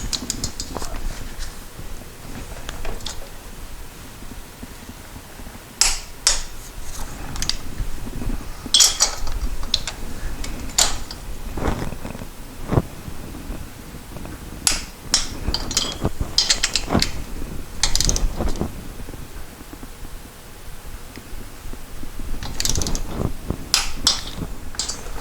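Ratcheting clicks from a torque wrench tightening cylinder head bolts on a 1973 Moto Guzzi, heard as sharp bursts of clicks in separate groups, close by over a quiet workshop background.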